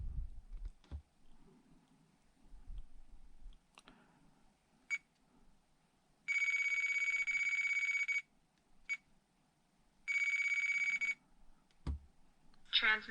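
WFLY X9 radio transmitter telemetry alarm sounding in two loud, steady high-pitched beeping bursts of a couple of seconds each, with short beeps and button clicks scattered around them.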